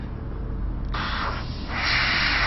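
Airbrush spraying sanguine base paint onto a model: a steady airy hiss that starts quietly, surges in short bursts, then settles into a louder continuous spray, close and alone.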